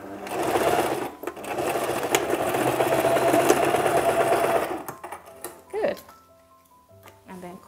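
Sewing machine stitching down two joined fabric strips for a traditional iro and buba, running fast and steady for about five seconds and then stopping, followed by quieter handling noises.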